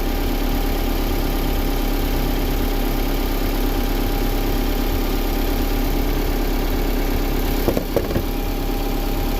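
A 2015 Jeep Cherokee with the 2.4L MultiAir engine idles close by at a steady, even rumble, with a faint knock or tap near the end and no voices.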